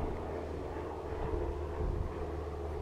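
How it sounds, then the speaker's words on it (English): Glider tow plane flying back down to land, a steady distant propeller engine drone mixed with wind buffeting on the microphone, continuous with no talk. "And there goes the plane that takes a glider up, flying back down, getting to land."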